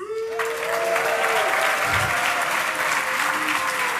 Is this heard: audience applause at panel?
yes